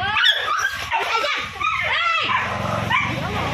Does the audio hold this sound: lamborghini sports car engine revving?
no